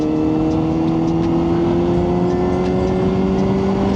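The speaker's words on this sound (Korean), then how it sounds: "이번에는 튜닝 머플러로 1단에 60km, 1단으로 60km. 1단에 60이면 RPM을 좀 써야겠죠." A motorcycle with a tuned aftermarket muffler runs in first gear at about 60 km/h, around 6,000 RPM, giving a loud, steady high-revving engine drone with sustained tonal hum, close and continuous throughout.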